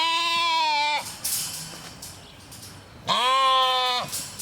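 Two loud, close sheep bleats, each about a second long, come from inside a pen of young sheep, with quiet shuffling in the gap between them.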